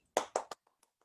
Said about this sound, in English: We also would like to give another thunderous applause to the Board of Judges